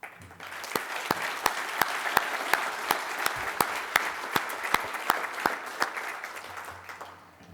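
A conference audience applauding after speakers are thanked: sustained, dense clapping from many hands with a few sharp individual claps standing out, lasting several seconds before tapering off.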